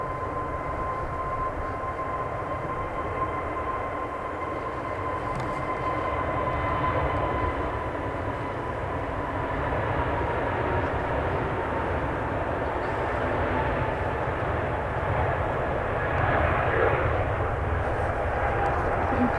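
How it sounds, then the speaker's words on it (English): An EasyJet Airbus A320 at Manchester Airport builds a steady, loud jet roar on its takeoff run, a continuous broadband rumble with faint tonal whine that swells slightly toward the end. "Our first aircraft of the day is this EasyJet A320."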